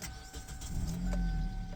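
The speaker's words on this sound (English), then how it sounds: "So let's start her up though." Engine of a 2007 Kia Sportage with very high mileage starting up, a cranking whir that swells into a low running rumble, close and moderately loud with no talk.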